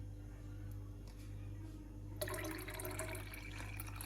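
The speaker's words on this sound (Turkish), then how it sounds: "Soğuk suyumuzu koyduk." Cold water poured into a baby formula bottle, a close, continuous splashing pour that starts abruptly midway over a steady low hum.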